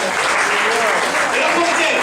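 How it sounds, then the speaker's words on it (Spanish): A church congregation applauds during a Spanish-language sermon, loud sustained clapping from many hands close by, with voices rising over it. "Dale un aplauso al Señor."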